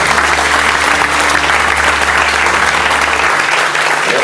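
An audience at a French guest-day gathering applauds new group members, a dense and steady round of clapping that holds loud for about four seconds before thinning slightly at the end.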